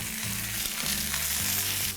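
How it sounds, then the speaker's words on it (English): Potatoes and onions sizzle and crackle steadily in hot oil, a dense close hiss with faint low clanks of a cast iron pan underneath. "You hear that sizzle, that's what you wanna hear."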